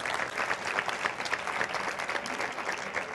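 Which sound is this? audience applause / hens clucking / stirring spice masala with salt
audience applause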